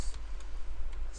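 Computer keyboard typing in a filename, a few quick sharp clicks spaced irregularly over a low background hum, close and fairly soft.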